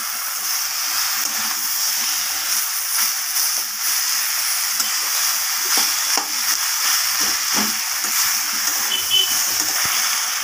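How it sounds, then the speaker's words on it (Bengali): Hilsa fish heads sizzling in a wok for a mixed-vegetable chorchori, a steady hiss of frying broken by intermittent spatula scrapes and clinks, near and without talk. "মাছের মাথাগুলোকে একটু খুন্তি দিয়ে চাপ দিয়ে ভেঙে নিতে হবে কড়াইয়ের মধ্যে"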